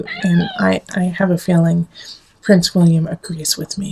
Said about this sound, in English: you can hear our little kitty talking to you too